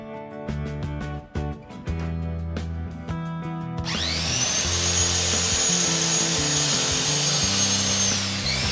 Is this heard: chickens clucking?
no